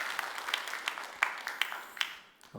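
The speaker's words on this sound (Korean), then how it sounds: "여러분 크게 박수 한번 해주셔요." Scattered applause in a church after a hymn, with a few distinct sharp claps standing out over a thin, quiet background of clapping that fades toward the end.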